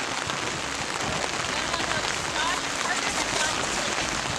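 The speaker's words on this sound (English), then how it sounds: "It's raining out." Steady outdoor rain falls in a dense, even hiss with a soft patter throughout, loud and continuous with no break.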